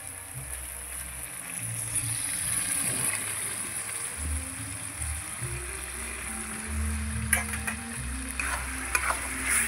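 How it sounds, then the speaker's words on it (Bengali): Bombay duck fish go into hot spiced oil in a pan on an outdoor clay stove, bringing a soft, steady sizzle with light stirring and scraping, fairly quiet and close, over low background hum. "এবার লোটে মাছগুলো দিয়ে দেবো, ঢেলে দেবো।"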